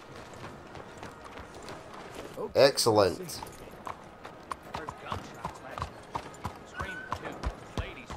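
Horse hooves clip-clop at a walking pace in Red Dead Redemption 2, a run of soft, evenly spaced thuds under a brief game voice and a burst of other noise early on.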